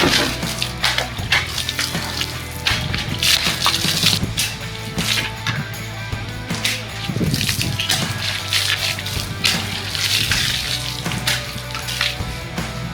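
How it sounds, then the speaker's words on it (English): A Shadow Dancer T10 katana slices through water bottles in a series of sharp cutting strikes, each followed by splashing and sloshing water, loud and continuous throughout with no speech. "one of the best cutting swords I've seen so far with the water bottles"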